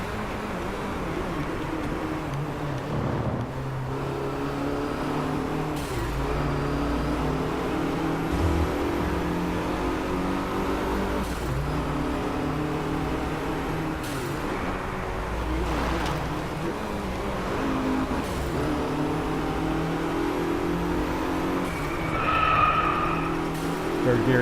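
Race car engine in the DRIVECLUB racing game with a 7-speed transmission, a continuous droning roar that rises and drops with repeated gear shifts over nearly half a minute, with a voice talking over it.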